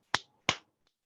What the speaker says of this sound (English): now I want you to snap 5 times